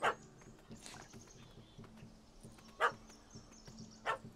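Dog barks from The Witcher 3: Hearts of Stone, three short sharp barks spaced apart over low ambient game background, no talk.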